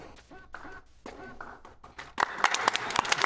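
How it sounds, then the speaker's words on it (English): Crowd at a live Summer Games Done Quick 2014 speedrun event of Ninja Gaiden III: The Ancient Ship of Doom breaks into scattered applause that swells in the last second, following a stretch of game sound and voices. "You guys weren't sure if you wanted to clap or not."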